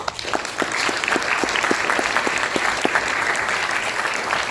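Applause from an audience at a collective-bargaining event, greeting a labour-law professor; steady clapping fills the whole stretch with some sharp individual claps standing out, continuous and fairly close.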